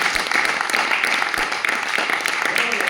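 A church congregation claps together, a dense, steady wash of applause that fills the whole stretch, with a few voices mixed in beneath it.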